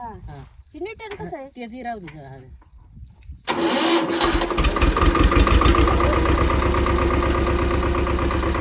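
A Swaraj tractor engine cranks and catches into a loud, rhythmic diesel idle that rumbles steadily to the end, after a stretch of people talking.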